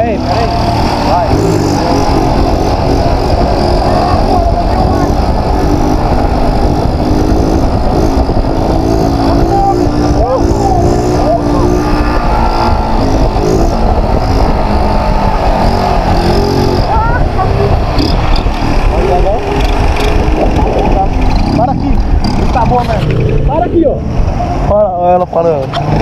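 A motorcycle engine revs hard and continuously for a wheelie, loud and close throughout, with people talking over it.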